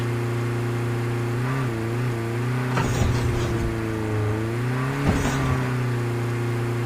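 A car engine hums steadily while driving in the Call of Duty Mobile video game, its pitch rising and falling slightly with a couple of brief thumps, and nothing else is heard.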